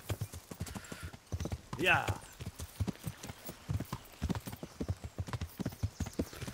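Horse hooves clip-clopping in a steady rhythm during a ride by a lake in Kingdom Come: Deliverance, close and continuous, with a brief whinny early on and someone briefly speaking.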